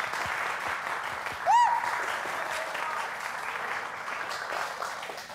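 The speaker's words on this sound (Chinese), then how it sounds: "我要把这个掌声献给你们" Audience applause fills the hall after a graduation stage play, a steady wash of clapping sustained throughout, with a brief shrill whistle or cheer rising over it near the start.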